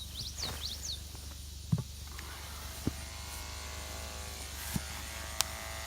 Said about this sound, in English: we'll shave an area like this, just so that way we can make sure we keep it as sanitized as possible